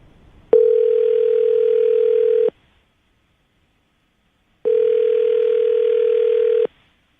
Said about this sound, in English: Well, I'm going to dial the phone number, see if we can get her on the phone.